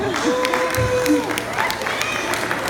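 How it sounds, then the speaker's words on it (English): At a tattoo convention sideshow, a lone audience member claps a few times beneath a performer talking into a microphone, with faint crowd murmur around. "thank you, the one guy that keeps clapping"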